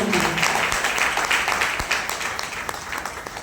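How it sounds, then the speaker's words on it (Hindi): An audience claps enthusiastically for an honoured guest at a gathering, a thick, continuous burst of many hands with sharp individual claps standing out, steady throughout. "सर के लिए एक बार जोरदार ताली बजाइए।"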